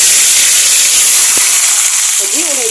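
Onions frying in a generous amount of hot oil give a loud, steady broadband sizzle and hiss throughout, with a voice briefly speaking over it near the end.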